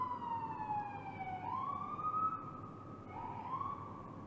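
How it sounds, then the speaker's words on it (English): Emergency vehicle sirens wail outside, a single sliding tone sweeping down and then up, heard faint and distant through a microphone indoors with no talk. "I'm currently just dealing with sirens and shit."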